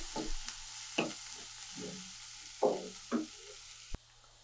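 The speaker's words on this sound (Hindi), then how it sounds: "प्याज को 1 से 2 मिनट अच्छे से फ्राई कर लेंगे।" Chopped onions frying in a pan, a quiet steady sizzle under several distinct stirring scrapes spaced about a second apart, ending with a sharp click, no talk.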